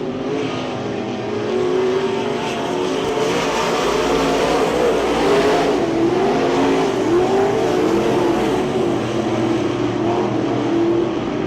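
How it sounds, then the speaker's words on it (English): Race cars roar down the backstretch of a speedway oval during an A main feature, a loud, sustained engine drone with rising and falling pitch as the pack passes, with no talk. "Travis Spalding roaring down the backstretch, looking for the win this time by"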